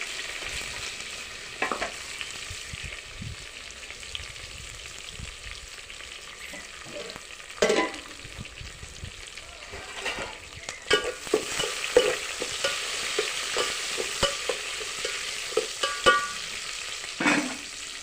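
Green chillies and chopped onion fry in a hot pan for village-style tamarind dal, with a steady close sizzle and a few sharp scraping stirs standing out.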